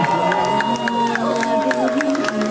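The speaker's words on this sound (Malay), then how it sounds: "Jikalau saya minta untuk berikan tepukan gemuruh" Wedding guests cheer and whoop in a lively crowd, with scattered clapping under the noise and voices calling out over a steady din.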